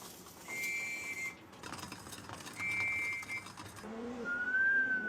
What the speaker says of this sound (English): the whistle, signaling it's time to return home where plenty of food awaits